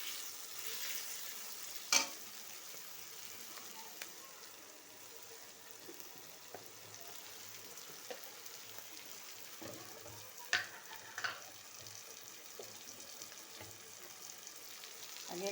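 Spices fry in a pan while being stirred for a sago khichuri, a soft, continuous sizzle with occasional scraping taps of a spoon, heard close and fairly quiet.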